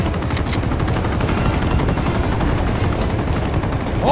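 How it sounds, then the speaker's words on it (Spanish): In the Uncharted 2 video game, a combat helicopter roars with a constant heavy rotor drone while bursts of gunfire crackle over it. "¡Odio los helicópteros!"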